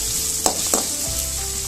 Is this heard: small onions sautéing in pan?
yes